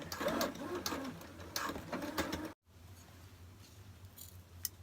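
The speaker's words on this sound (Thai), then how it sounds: "เย็บยางนะคะ เย็บยางให้มันติดกัน" A sewing machine stitches an elastic band together, a close, rapid mechanical whirring that runs steadily, stops abruptly, then resumes more quietly as a low hum.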